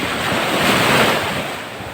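Sea surf rolls onto the shore in one steady broad wash of breaking water, loud and close, with wind buffeting the microphone.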